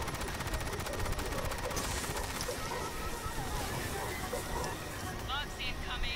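Rapid video game gunfire rattles continuously in a sci-fi shooter battle against bugs and robots, with a steady mechanical din and a voice speaking over the shooting.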